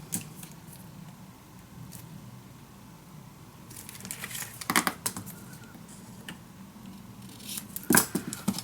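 Scissors snip through paper in a few quick bursts near the end, close and crisp, with a quiet room and soft handling noise between cuts.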